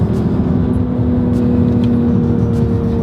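A 2022 BMW M240i xDrive on winter tires pulls hard under acceleration, a steady, loud engine drone with a sustained low hum throughout and no talk over it.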